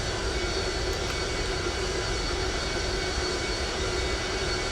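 An Avro Vulcan's jet engines taxiing in the X-Plane 11 flight simulator, a steady loud broadband roar with a faint high whine, constant throughout and without talking.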